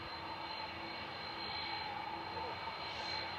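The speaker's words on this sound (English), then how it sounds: "Got an Air France A220 coming in, so we'll get a good howl" An Air France Airbus A220 comes in to land, its engines giving a steady, faint howl with a thin whine over a broad low rumble that holds level and distant throughout.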